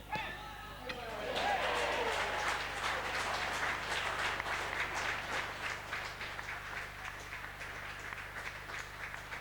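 A football crowd applauds at a Cambridge United match after Wimbledon's goals. The steady, distant clapping rises and then settles, and a commentator's voice runs over it.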